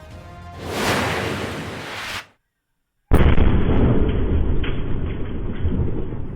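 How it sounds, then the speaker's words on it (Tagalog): A loud rumbling blast builds and cuts off, then after a brief silence a second sharp explosion erupts into sustained crackling roar of fireworks exploding at a firing range in Zamboanga City. "Ramdam sa sentro ng Zamboanga City ang pagsabog ng mga paputok sa isang firing range"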